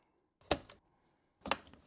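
A DDR5 RAM memory module is pressed into a motherboard slot in a Mini ITX gaming PC, giving two sharp, close plastic clicks about a second apart in a quiet room.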